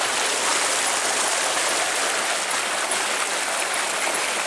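Water gushes steadily from the 7-inch delivery pipe of a solar-powered tube well pump running on an INVT VFD in the evening, a dense, continuous, loud rushing roar with no pauses and no voices.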